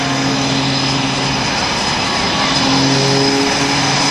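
Matt Chapman's aerobatic propeller airplane pulls up into a climbing maneuver during the 2010 NAS Oceana Airshow. Its engine drones loud and steady throughout, a continuous buzzing roar with no pauses.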